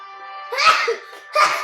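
A close, sharp sneeze bursts out, followed a moment later by a second, shorter sneeze-like burst.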